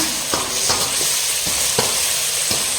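Tomatoes cooking down in a pan for a chicken dish, a loud, close sizzle broken by regular spatula scrapes roughly every half second.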